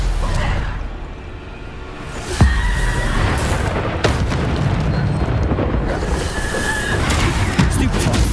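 Bombarda blasting spells explode in the Hogwarts Legacy video game: heavy booms hit at intervals over a dense, continuous roar of battle noise, loud and close.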